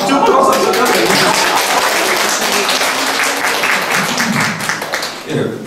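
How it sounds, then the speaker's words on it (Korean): Loud, dense audience applause for a guest who is a North Korean defector and laughter therapist at a lecture on parenting, steady throughout and close to the listener, with no talk over it. "저분 박수 쳐줘야 됩니다"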